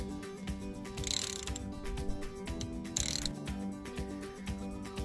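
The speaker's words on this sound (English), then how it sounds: "take your star tip, pop it in the screw, and then begin to undo." A star-tip screwdriver undoes a screw on a VW T5 Transporter gearstick assembly, making repeated close ratcheting clicks in an uneven rhythm, with no talk.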